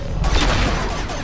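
Gunfire in Mass Effect 2 lands a headshot, a dense burst of sharp, loud shots and impacts crackling together over game ambience.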